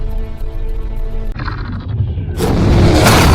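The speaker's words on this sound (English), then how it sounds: "the Germans, assisted by infantry troops, launched mortars from a distance, hitting the settlement recognized as a hiding place" In a WWII tank battle scene, German mortar shells strike a settlement, one deep boom rumbling out before another loud blast erupts, set against a low tonal score.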